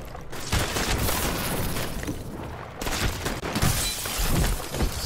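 Loud sniper fire and shattering glass in Call of Duty: Advanced Warfare, with repeated heavy cracks and bursts of breaking glass over several seconds.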